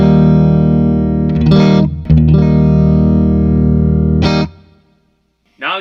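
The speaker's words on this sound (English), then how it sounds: "Now what I'm going to do is show you here my clean sound." Clean electric guitar played through a Byrdhouse compressor pedal, sustained chords ringing loud and close with a couple of quick pick scrapes and a brief cut-off near the end.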